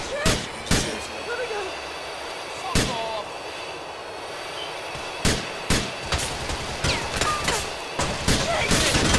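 Gunfire in a shootout in GTA The Ballad of Gay Tony: sharp, loud single shots spaced irregularly, then bunching into a quicker volley near the end, over a low rumbling background.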